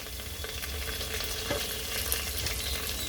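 Ghee sizzling in a pan while cooking mutton pulao, a dense continuous frying hiss with light stirring scrapes throughout.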